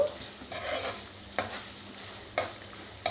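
Curry leaves and green chillies fry in hot oil with a steady, even sizzle and a few sharp crackles and pops, close by, with no talking.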